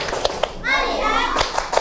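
Children in a classroom clap in rhythm and chant together: a few crisp, evenly spaced claps frame a short burst of unison young voices, then more claps follow.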